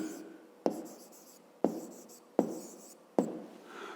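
A fifth-grade maths solution is written out by hand, with close scratchy strokes punctuated by four sharp taps at a steady, unhurried pace.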